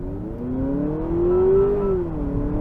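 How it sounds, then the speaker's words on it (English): A 2023 Honda Accord Hybrid in sport mode accelerates hard, its engine note rising steadily in pitch with simulated gear steps, loud and sustained without any talking. "when you don't torque brake and you just mash the gas, I'm still in sport mode, it should go ahead and simulate some gears for us."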